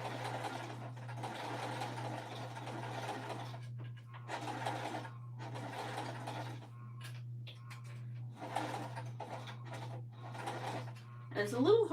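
A sewing machine stitching through thick fabric, its steady motor hum running throughout with bursts of needle chatter that start and stop, under someone talking.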